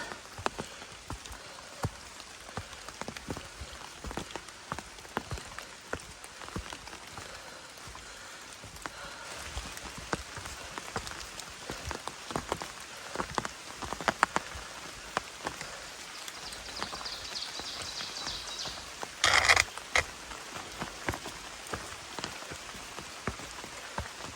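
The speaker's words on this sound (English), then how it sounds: "And the rain has picked up some." Rain falls steadily on the Appalachian Trail in fog, a soft, continuous patter of drops ticking on leaves and ground nearby, with a brief louder burst of drops near the end.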